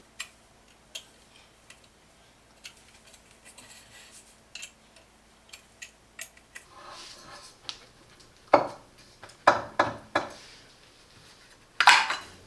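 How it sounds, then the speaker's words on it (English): Screws on a COFO Zero Gravity Monitor Arm Pro being tightened with a 3mm hex key, scattered small metallic ticks and clicks at first, then louder sharp clanks and rattles of metal parts toward the end, close and without talk. "now use the 3mm hexagon to tighten the screws"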